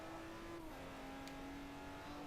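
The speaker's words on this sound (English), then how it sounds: "Oh my gosh, this thing gets sideways for a little all-wheel drive car." An all-wheel drive car with 467 horsepower slides sideways in a racing video game, a steady engine drone holding and then dropping slightly in pitch, fairly faint and continuous.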